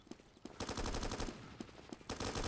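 AUG A3 rifle gunfire in the Roblox shooter Blackhawk Rescue Mission 5, rapid automatic bursts of crackling shots over a steady game music bed, fairly loud and without talking.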